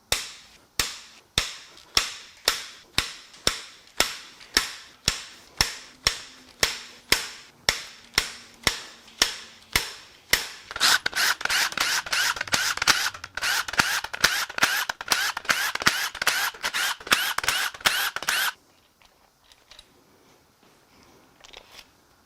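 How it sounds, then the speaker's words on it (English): Rocker shaft bolts on a Ford 6.2L V8 being cracked loose with a tool, sounding as a long steady run of sharp snapping clicks that speed into a denser rattling burst before stopping abruptly, close and loud. "We're just going to crack these bolts loose."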